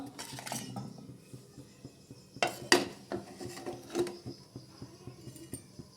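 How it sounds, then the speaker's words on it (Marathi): Garlic and green chilies are pounded into a coarse relish with a few hard knocks and scraping strikes, close up, among quieter clinks and rubbing. "तर ह्या पद्धतीने मी हा लसण आणि मिरच्या हे ठेचते"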